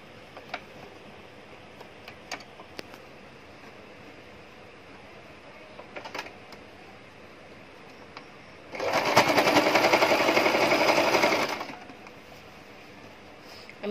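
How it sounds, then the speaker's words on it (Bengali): A sewing machine runs in one steady, loud whirring burst of about three seconds while stitching the belt onto a palazzo pant, after faint scattered ticks and handling clicks in a quiet room. "আমি এভাবে টেনে টেনে সেলাই করে নিব পুরোটা"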